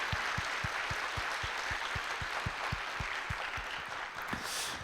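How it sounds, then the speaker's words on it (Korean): A church congregation at a Friday worship service claps together in an even, steady rhythm of sharp beats over a roomy background. "우리 주님께 감사의 박수 올려드리시겠습니다"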